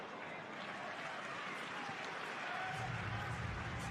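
Virtual crowd in the VR tennis game First Person Tennis on Oculus Quest, a steady broadband roar of cheering and applause that swells louder near the end, with a voice talking faintly over it.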